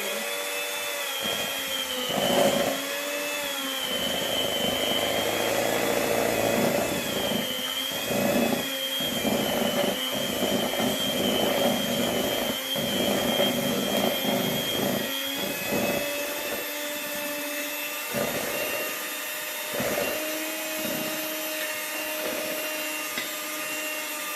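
An electric mixer slowly beats icing sugar with vanilla essence, a steady motor whine humming continuously and close with small fluctuations in pitch and load, no voices over it.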